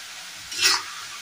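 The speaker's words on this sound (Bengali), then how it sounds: "এদিকে আলু ভাজা চলছে" A short burst of hissing sizzle rises and fades over a steady background hiss, like food frying in hot oil.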